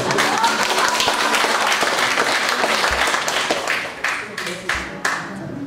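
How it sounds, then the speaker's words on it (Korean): Applause from a seated audience after a Korean poetry recitation, a dense burst of many clapping hands that thins toward the end into a few scattered louder claps. "박수 부탁드립니다."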